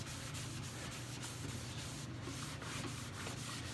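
A cloth rubs Annie Sloan dark wax into finished wood in a steady, close, continuous scrubbing swish with a soft rhythmic back-and-forth texture and no talking.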